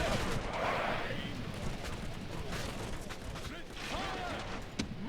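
Troops firing weapons in a LOTR Remastered battle: a continuous rumbling barrage of distant gunfire and crackling shots, steady and dense, with someone talking over it throughout.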